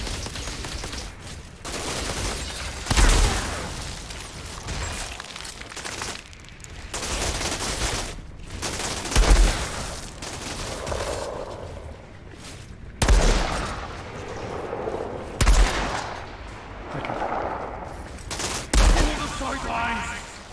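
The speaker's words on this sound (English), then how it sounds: "Little sniper duel going on there." Sniper rifle duel in the shooter game Outriders, with sharp, loud single shots at irregular intervals every few seconds, separated by quieter stretches of background combat noise and occasional talk.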